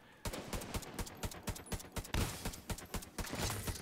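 Gunfire in the video game The Division 2, a quick series of sharp, fairly faint shots in an uneven rhythm, roughly a dozen cracks over a few seconds.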